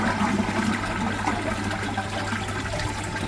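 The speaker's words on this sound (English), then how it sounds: "Here, we'll just give that one more flush." A toilet flushes close by in a bathroom, a loud continuous rush and gurgle of water filling the whole stretch without pause.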